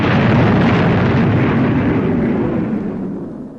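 Fireball XL5 spacecraft firing its retro rockets and boosters at full power, a loud broadband roaring blast that swells and holds, then slowly fades over a few seconds, with no voices.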